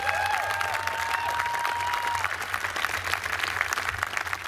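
A crowd applauds steadily at an outdoor New York State Police special operations response team demonstration, dense and sustained clapping throughout, with a thin whistle-like tone gliding through the first two seconds.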